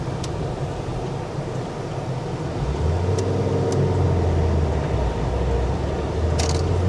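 A 1994 Ford Tempo with a 5-speed manual gearbox driving on the road, heard from inside as a steady low engine drone and road rumble, with a rising tone partway through and a few faint clicks, no talking.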